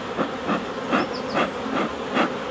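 Honey bees swarm inside an opened hive, the two supers lifted off and the colony smoked, giving a steady hissing buzz that swells in soft regular pulses, with no voices.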